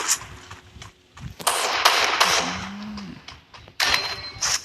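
Sharp gunshots ring out in a Free Fire 4v4 match, scattered single cracks and short bursts at close range over game noise, with a brief tonal chime in the middle.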